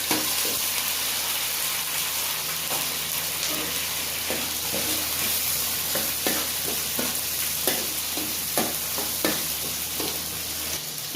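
Green chillies and tomato sizzle and fry in a pan of oil after onions, with a steady close hiss broken by frequent scraping stirs; no voices.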